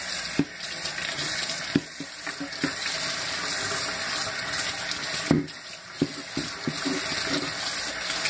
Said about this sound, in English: put some water on there, take the vinegar off.